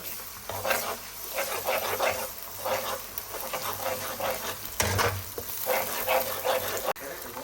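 Yogurt is stirred into spiced oil in a cooking pot, giving repeated rhythmic scraping and sizzling strokes, close and fairly loud, with muffled voices in the background.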